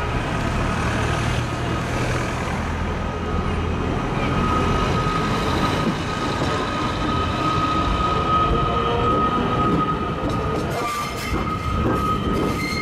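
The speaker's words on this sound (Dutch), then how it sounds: "Je komt weer zo'n modern Stadler-treinstel." A modern Stadler electric train rumbles steadily past at close range in the Alps, wheels grinding and clattering on the rails with a faint high squeal, loud and continuous throughout.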